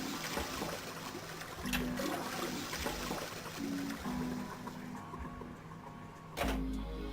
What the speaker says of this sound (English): I heard a loud flushing noise over and over and over again